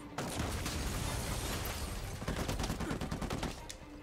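Rapid bursts of gunfire crackle continuously in Uncharted 4: A Thief's End, dense and loud, with shots overlapping throughout and no voices.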